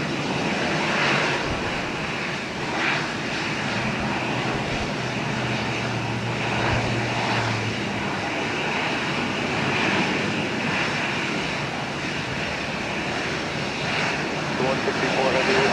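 A jet airliner takes off at Minneapolis–St. Paul Airport, its broad engine roar holding steady and loud for the whole stretch, a continuous rumbling wash heard from the terminal.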